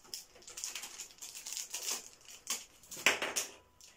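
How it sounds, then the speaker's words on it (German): Plastic packaging crinkles and tears in a series of close, irregular rustling bursts as camera mounts are unpacked, with no talking. "Diese Dinger, ich pack's am besten mal aus."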